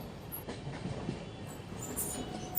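Passenger train running near Jammu Tawi station on the Jammu to Katra line, heading toward tunnels; steady wheel rumble and clatter with a faint squeal, heard from on board.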